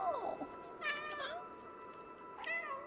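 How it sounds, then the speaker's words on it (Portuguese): A cat meows from the video game Stray on PS5, a few short, clear meows spaced through the moment, with soft background ambience and no speech over it. "Aperte bola pra miar."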